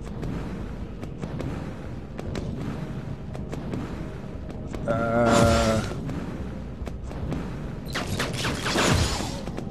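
Defensive turrets in Eden Star fire at airborne enemies, crackling bursts and booming impacts rising into two loud volleys over a busy background of scattered shots.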